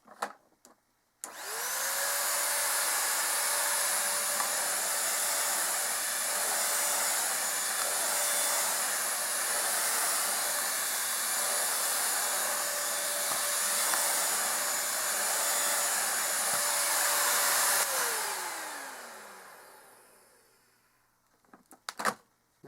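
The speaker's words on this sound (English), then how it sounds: "Here's Bissell 3-in-1 stick vac number 3." A Bissell 3-in-1 stick vacuum cleaner switches on and drones with a steady, loud airy roar and a high motor whine, holding for about seventeen seconds before spinning down, with faint clicks at the start and end.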